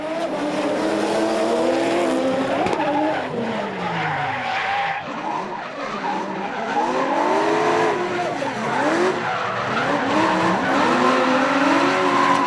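Drift competition car with its right rear guard rubbing on the tyre, sliding and spinning amid heavy smoke: loud, continuous tyre squeal and skidding over a roaring engine, sustained and wavering throughout.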